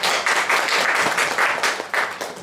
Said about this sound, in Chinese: 然后大家热烈掌声欢迎一下。